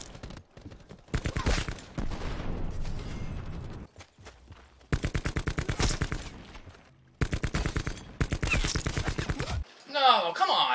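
Video game gunfire in a hardcore shooter mode rattles out in several rapid automatic bursts separated by short silences, loud and close, with a voice speaking near the end.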